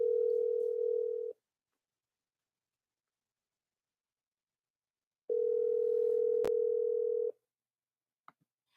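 Steady telephone dial tone while a call is being placed, sounding for about a second, then silence, then returning for two more seconds, broken by a sharp click and followed by a couple of faint taps.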